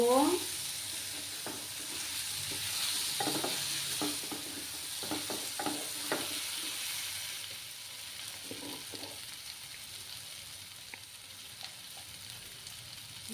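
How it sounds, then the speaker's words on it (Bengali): Dried fish is stirred as it fries in a pan for a potato and brinjal curry, a soft steady sizzle with intermittent scrapes and knocks of the spoon, no voices. "এবার আমি শুটকি মাছগুলো দিয়ে দেব। দিয়ে নাড়াচাড়া করব।"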